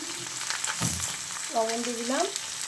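Bottle gourd hitting hot oil in a pan, a faint sizzle with a soft clatter partway through, under quiet background voices.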